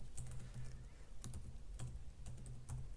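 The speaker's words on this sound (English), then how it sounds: "So let's write JavaScript method." Typing on a computer keyboard while writing JavaScript code, a steady run of close, light key clicks in short bursts over a low hum, with no talking.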